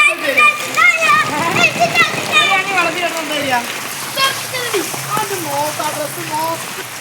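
Heavy pouring rain splashes down around a house where water floods the yard and road, a steady wet hiss running beneath continuous talk from adults and a child.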